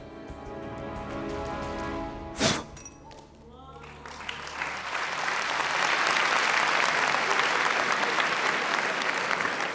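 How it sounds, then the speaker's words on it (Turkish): Studio audience applause on a Turkish televised talent show, a sharp clatter early on, then a broad sustained wash of clapping that swells and holds loud to the end. "Bu alkışları Hülya Hanım için yapın."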